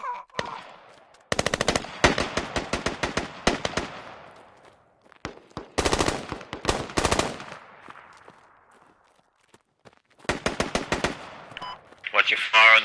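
Automatic gunfire in the military shooter game Squad, with long rapid bursts of rifle or machine-gun fire broken by short pauses and single shots, loud and close, and voices occasionally heard between the bursts.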